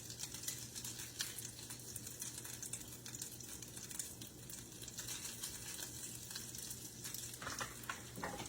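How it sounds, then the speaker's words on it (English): Steady sizzling and crackling of shredded pork frying in a hot pan, continuous and close, with faint clicks of stirring and no talking. "As you can hear, it's starting to sizzle."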